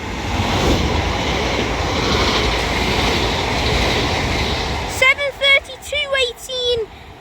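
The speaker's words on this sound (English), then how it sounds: "Now passing through is going to be the 1425 London North Western Railway service to Liverpool Lime Street from Birmingham New Street" London Northwestern Railway class 730 electric train passes through Mossley Hill station on the Liverpool branch of the West Coast Main Line with a loud, close roar and wheel clatter. It ends abruptly, and someone talks afterward.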